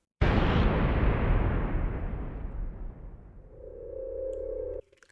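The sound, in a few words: explosion sound effect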